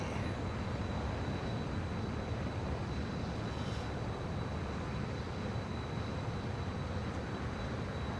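A steady, droning video game airplane engine hums continuously at moderate volume, an even mechanical roar with no voices.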